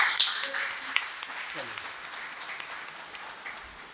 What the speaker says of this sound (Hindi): तालियां जोरदार होनी चाहिए जरा।